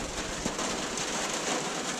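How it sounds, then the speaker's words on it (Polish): Steady rain falling outdoors, a continuous even hiss of drops on surfaces that holds at a constant level for the whole stretch with no pauses, heard alone without any voices. "Słychać? pada deszcz."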